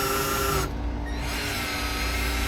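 A drill bores a half-inch pilot hole; a loud, steady grinding whir runs throughout, with a brief shift in tone partway through. No voices.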